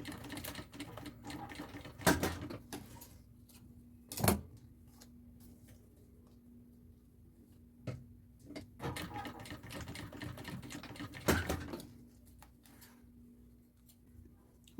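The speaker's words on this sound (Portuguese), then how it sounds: "Eu vou costurar aqui na lateral e aqui na lateral." A sewing machine stitches along the side of an executive bag in short, quiet bursts of rapid ticking, separated by pauses.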